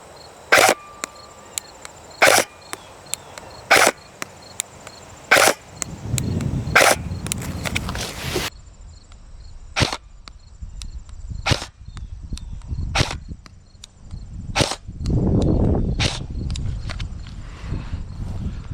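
Sharp reports of a KWA airsoft rifle firing at a cardboard target, about a dozen crisp snaps at uneven intervals, some spaced close together, loud and near with faint rustling between them.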